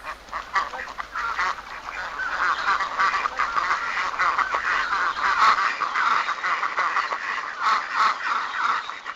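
Ducks quack loudly and continuously, a dense, overlapping chorus of many birds calling close by with no talk over it.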